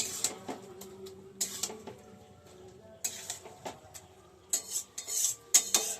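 A spoon stirs vegetable curry of pumpkin stalks in a cooking pan, with a run of close, uneven metallic scrapes and clinks in short bursts against a quiet kitchen background.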